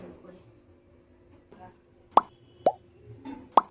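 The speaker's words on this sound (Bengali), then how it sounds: "আর জলটা ঢেলে দিই" Water poured during a Shivaratri ritual lands in three or four distinct, close plops and splashes spaced about half a second apart, with faint voices in the background.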